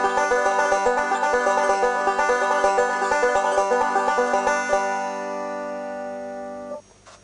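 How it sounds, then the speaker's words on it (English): Banjo playing a forward-backward roll up to speed, a quick, even stream of bright plucked notes that stops and lets the final chord ring out and fade. "And to speed, this forward-backward roll would sound like this."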